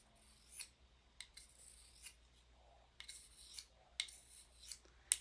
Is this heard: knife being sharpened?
yes